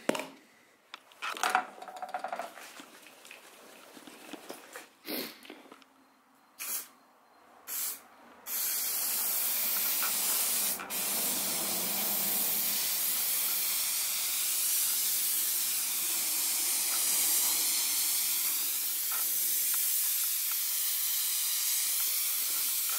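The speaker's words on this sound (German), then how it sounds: "So, jetzt kommt der Sprühkleber da drauf." Spray adhesive hisses from an aerosol can in a long steady burst onto felt lining for a VW T5 van interior, following several short handling noises and brief sprays.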